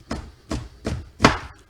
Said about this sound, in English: Always make sure you keep your fingers down like this when cutting.